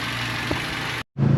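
A 2019 Toyota Rush engine runs steadily during a road test after an ABS motor replacement, a constant low hum with road noise that briefly cuts out before resuming.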